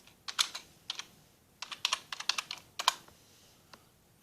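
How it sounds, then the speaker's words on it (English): Fast typing on a computer keyboard, close by: bursts of crisp key clicks in quick clusters with short pauses between them, no voices. "We're going to type in John B."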